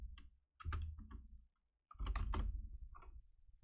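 Someone types on a computer keyboard in two quick bursts of close, crisp key clicks separated by a short pause, the taps irregular and fairly quiet, with no talking.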